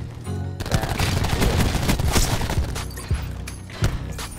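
Dense rapid automatic gunfire in a shooter video game, loud and continuous with bursts of booming shots and a few louder cracks near the end, no clear speech.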